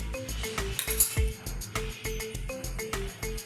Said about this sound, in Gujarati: આમાં આપણે થોડું મીઠું ઉમેરીશું। પછી બરાબર હલાવી અને ચડવા દઈશું